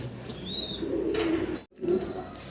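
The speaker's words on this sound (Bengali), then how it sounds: "আমরা এখানে মুখ্য কবুতর দেখতেছি" Fancy Mookee pigeons coo softly in low, rolling bursts, with a brief chirp early on and a quiet background hum.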